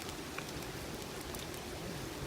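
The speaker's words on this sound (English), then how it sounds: "because it started to rain" Heavy rain falls steadily outdoors during a muddy bottle dig, a dense, constant hiss of drops close by with no voices and no breaks.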